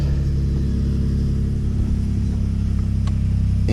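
A 2019 Ford F-150 Raptor engine running at a loud, steady idle after starting, deep mid-frequency rumble held constant and close, with a faint click near the end and no talking.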